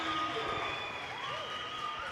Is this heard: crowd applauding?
yes